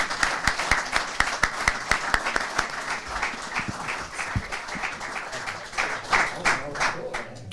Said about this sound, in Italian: vi chiedo un ultimo e ulteriore applauso per ringraziare i nostri ospiti